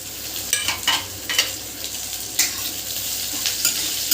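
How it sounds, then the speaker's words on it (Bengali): Ginger, garlic and onion hitting hot oil with fried peanuts: a continuous close sizzle punctuated by several sharp spatula scrapes and clinks at irregular intervals, no talking. "বাদামটা ভাজা ভাজা হয়ে গেছে আদা রসুন পেঁয়াজটুকু দিয়ে দেবো"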